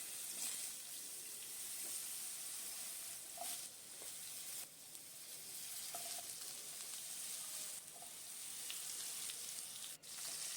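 Diced potatoes fry in oil with cardamom, cloves and a bay leaf, giving a soft steady sizzle with a few faint clinks, quiet and continuous throughout.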